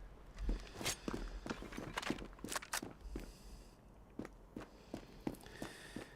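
Player footsteps stomping in the shooter Standoff 2, a quick series of distinct thudding steps at an uneven running pace, moderately close and with no talking.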